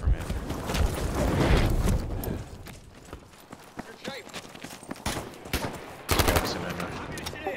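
Bursts of automatic rifle fire and single shots crackle through a Battlefield V multiplayer match, some close and loud, others distant, with a player talking over the action.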